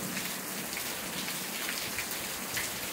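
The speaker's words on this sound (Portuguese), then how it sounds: "Chuva. Olha a maravilha, ó." Heavy rain pours down in the Paraíba backcountry near Campina Grande, a thick continuous roar of drops on the ground, steady and close with no voices.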